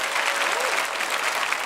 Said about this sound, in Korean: 자 박수로 우리 맞아.